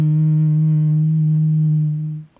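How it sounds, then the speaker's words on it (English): A person hums steadily on a long exhale during a breathing exercise, making one sustained, even, close-up tone that fades out at the end of the breath, with no talking. "And as you exhale, create that humming sound."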